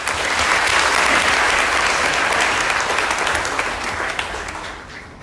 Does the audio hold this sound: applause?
yes